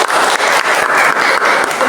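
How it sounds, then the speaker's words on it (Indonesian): A classroom audience of students claps together in a brief burst of dense applause, loud and close, with no speech over it. "Beri tepuk tangan kepada mereka."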